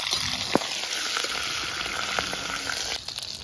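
Chopped ginger and green chilies sizzle steadily in hot oil in a pan on a newly lit stove, with a continuous close frying hiss broken by a few sharp pops and light stirring clicks.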